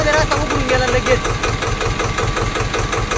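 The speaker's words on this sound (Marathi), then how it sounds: "हे दादा आहेत, हे चालले ट्रॅक्टरवर" A tractor engine runs at close range on a rain-damaged village road, with a steady, rhythmic low chugging that holds through the whole stretch.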